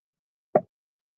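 A single close gulp of coffee taken in one quick swallow, a short wet plop with a small second catch at the end, alone in otherwise quiet surroundings.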